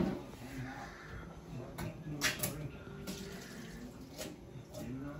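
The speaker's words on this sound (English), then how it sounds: "You have to drain the whole kernel corn." Liquid from canned whole kernel corn drains through a strainer with a soft continuous trickle and a few clinks and bumps, heard at close range.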